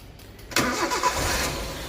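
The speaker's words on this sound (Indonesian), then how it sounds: "Nah, ini dia nih mesinnya. Kita starter ya." A 1999 Suzuki Carry Futura's 1600cc four-cylinder carbureted G16A engine cranks briefly and then catches. It settles into a steady, close idle.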